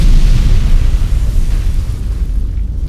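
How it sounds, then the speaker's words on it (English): A bomb striking a tank, a loud deep explosion with a heavy low rumble that starts at full force and slowly decays. "Then an almighty explosion."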